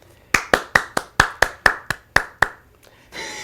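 Sharp hand claps ring out in a television studio, about nine close, evenly spaced claps in a steady rhythm before they stop and a faint background hiss remains.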